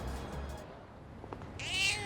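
A cat meows in the Persona 3 Reload video game, with a weak, hungry-sounding mew drifting over a low game backdrop and one sharper, brighter meow near the end. No one talks.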